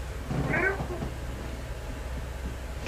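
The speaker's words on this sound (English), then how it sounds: "All right, this is my cat Gemini." A pet cat gives one short, faint meow near the start, then quiet room noise follows with a low background hum.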